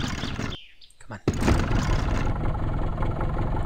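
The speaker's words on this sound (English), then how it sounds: "We're driving the boat." A boat engine in the game My Summer Car starts up after a brief pause and then runs with a steady, loud mid-to-low drone, with a person talking over it.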